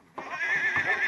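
Icelandic horse neighing, a single close, loud, shrill whinny that rises suddenly and holds steady for about a second.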